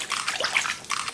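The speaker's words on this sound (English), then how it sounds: "I'm just going to splash around in this water" A hand splashes around in water, making brief choppy sloshes in a short, close burst with a small pause near the end.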